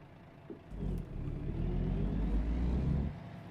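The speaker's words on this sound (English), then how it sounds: "that engine's got a nice sound" A truck engine in a video game rumbles low and steady, swelling as it revs up for a couple of seconds, then easing back down.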